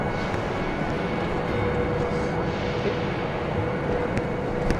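A train pulls up at a platform on the line to Tirano, Italy, a steady low rumble with a faint high whine running underneath, continuous and fairly distant, with no talking.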